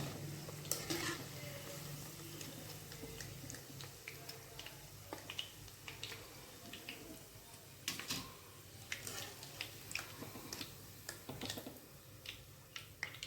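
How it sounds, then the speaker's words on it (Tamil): Onion manchurian pieces deep-frying in hot oil in a kadai make a quiet, steady crackling sizzle, dotted with frequent small pops and a few spoon scrapes. "மீதம் இருக்கதை நம்ம பொரிச்சு எடுத்துக்கலாம்."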